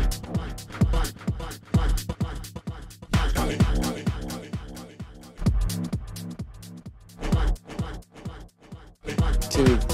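Dense rhythmic music on a DJ mixer, cut in and out with a slow crossfader while an echo effect repeats the beat; punchy transient hits and a steady pulse fill ten seconds with no talking.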